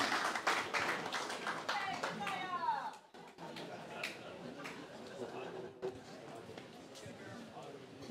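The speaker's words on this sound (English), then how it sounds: "Another round of applause, guys" Guests at a wedding reception clap loudly, a dense burst that breaks off abruptly, followed by a quieter stretch with scattered voices and a few lighter claps.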